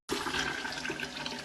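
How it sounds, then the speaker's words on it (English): A toilet flushes in one steady, rushing surge of water that starts abruptly and holds fairly loud and close, with no talking. "this one is more of a slow flush"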